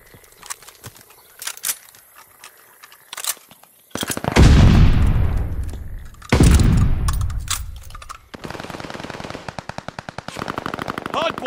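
Video game gunfire at a hardpoint, with scattered shots followed by long loud bursts of rapid automatic fire and a rattling run of shots near the end, no speech.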